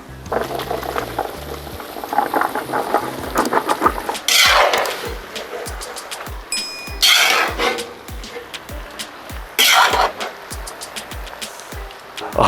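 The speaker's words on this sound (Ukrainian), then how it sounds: "гарно вимішав все" Zucchini being stirred in a metal cauldron, with scraping clanks and clatter over a steady simmer, plus a few louder bursts of sizzling.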